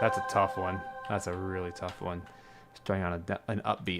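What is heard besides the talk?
No everyday noise stands out behind the speech.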